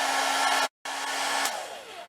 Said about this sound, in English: not running the generator, and I can run my hairdryer